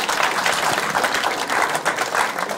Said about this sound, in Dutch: Geef maar vast een hartelijk applaus.